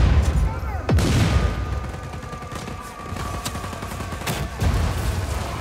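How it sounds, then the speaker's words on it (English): Rocket launcher blasts in the Just Cause 4 video game: loud, dense booms and crackling gunfire with a few sharp impacts, rumbling continuously throughout, with a voice faintly under the chaos. "Just like full on rocket launchers to the face, why not? Oh, lots of booms."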